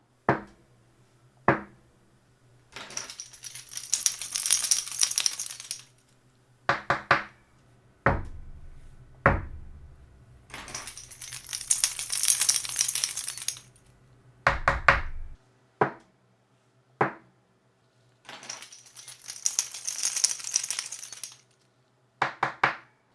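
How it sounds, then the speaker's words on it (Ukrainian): Repeated sharp knocks and thumps of a desk being bumped, alternating with bursts of keys jangling, in a quiet room without talk, recorded on a Fifine A6T microphone. "коли я штовхаю мій стіл або роблю додаткові звуки за допомогою ключів"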